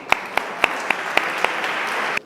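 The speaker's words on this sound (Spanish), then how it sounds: "Pido un aplauso, por favor," An audience claps at a scientific congress session, steady applause with sharp individual claps standing out, filling the space briefly before cutting off abruptly.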